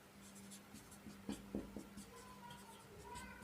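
Chalk or marker strokes on a board, faint and close, with a few quick scratchy bursts in the middle and a soft background hum.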